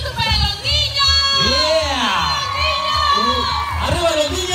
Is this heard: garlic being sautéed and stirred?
no